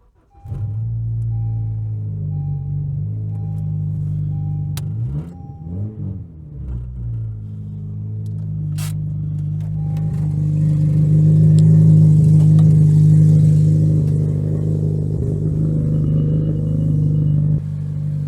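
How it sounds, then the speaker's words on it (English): A 9th-generation Honda Civic engine idles with a steady low rumble and mid-range drone while the car drives off wooden blocks, swelling slightly louder partway through, close and continuous with no talking. "right now I'm just putting the car off the wood"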